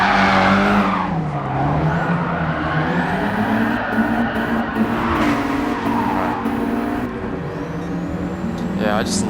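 A Nissan 200SX S13 drifts on the Nordschleife in GT Sport, its engine droning steadily while tires squeal in long, sustained screeches that rise and fall through the turns.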